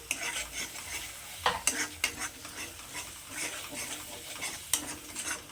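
Peas being stirred into a simmering curry in a pan, with soft sizzling under repeated scraping and clinking strokes of a spoon against the pan at an uneven rhythm.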